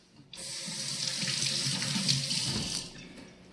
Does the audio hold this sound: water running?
yes